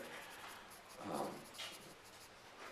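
Pen or marker writing on a board, a soft scratchy stroke sound running through the moment with a louder burst midway, close and fairly quiet, with no talk over it.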